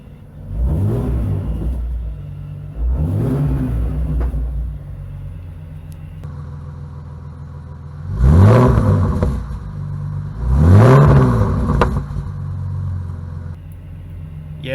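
A BMW E46 engine with the muffler removed idles with a throaty rumble, then revs hard several times, each burst a loud, barking roar that swells and drops back to idle.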